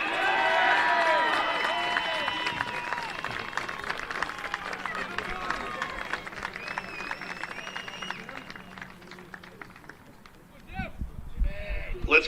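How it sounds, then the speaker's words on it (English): A baseball championship crowd applauds the tournament MVP from Post University: a dense, steady wash of clapping and cheering that lasts several seconds and slowly fades, with a voice talking over it near the end. "Let's give a final round of applause to this year's MVP and all the members of the all-tournament team"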